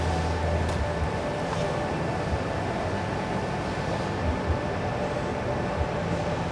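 A steady, loud electric buzzing hiss from a TIG welding arc at 400 hertz AC runs continuously without pause, with a faint high whine above it.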